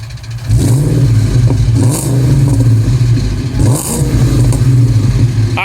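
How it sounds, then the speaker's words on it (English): A Ford Mustang Terminator Cobra engine revs hard through its exhaust, a loud, continuous roar with repeated throttle surges and dips that runs steadily for several seconds, heard close up. "You get exhaust sound real quick?"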